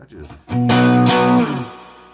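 An electric guitar played dry through a Fender Silverface Tweed amp rings out as a single strummed chord, sustaining clearly for about a second before decaying, with faint murmur before it.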